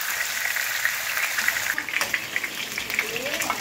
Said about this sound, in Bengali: মাছটা দেখুন ভাজা হয়ে গেছে, এরকম ভাজা ভেজেছি আমি